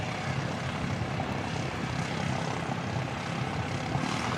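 A C-17A military transport aircraft taxis past at Christchurch Airport, its broad, steady engine roar filling the air, loud and close, with no other sounds over it.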